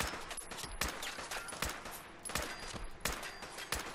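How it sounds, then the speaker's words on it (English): Rapid gunfire from the video game Fallout 4 while shooting at an enemy, with sharp shots in uneven bursts and clusters and brief lulls between them, loud and close. "I could probably just sit here and shoot him all day."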